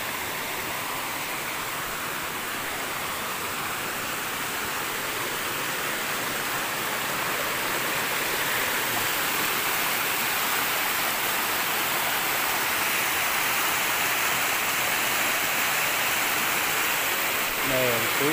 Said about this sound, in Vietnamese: Này suối rất đẹp luôn mọi người nha.